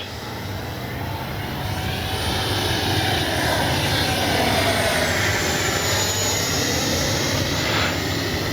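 A FlyFans L-39 Black Diamond RC model jet flies past in a steady, loud roar with a thin high whine that holds across the whole stretch, with no voices.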